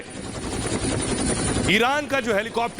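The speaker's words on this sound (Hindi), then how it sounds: "ईरान का हेलीकॉप्टर अमेरिका के युद्धपोत को खदेड़ रहा है।" A helicopter flying over a warship, recorded in Iranian footage, keeps up a loud rotor drone under a voice, which rises over it partway through.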